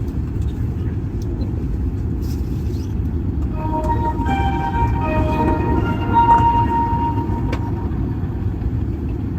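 Inside a high-speed train running from Kunming to Chongqing, a steady loud low rumble fills the cabin and a tonal whine rises and holds partway through.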